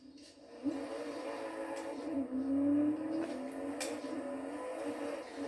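Car engine in the Forza Horizon 5 racing game, a very fast car, droning steadily with a rising whine as it accelerates, loud and continuous with no talking.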